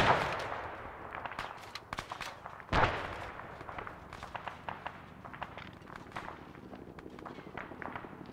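Grenade blasts and gunfire from the combat game Arma: sharp repeated shots and a heavier explosion burst near the three-second mark, with scattered pops and crackles continuing at moderate loudness throughout.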